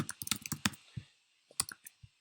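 Quiet, close computer mouse clicks and keyboard typing in a quick irregular burst, a short pause, then a few more taps, with no voices.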